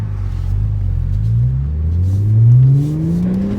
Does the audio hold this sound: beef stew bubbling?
no